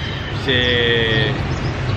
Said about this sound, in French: ça klaxonne sans arrêt mais non-stop